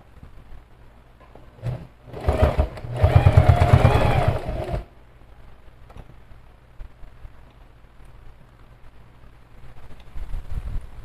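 A sewing machine stitches bias binding onto a bag in one loud, steady whirring run of about two seconds, bracketed by quieter handling noise.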